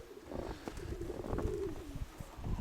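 Pigeons coo in a low, rolling murmur that swells toward the middle, amid light outdoor noise, moderately close, with no one speaking.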